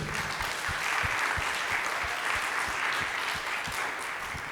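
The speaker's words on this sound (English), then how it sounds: "If you could give him a round of applause." Steady applause from an event audience at a 2023 conference, a continuous dense patter of many hands at moderate distance, with no talk over it.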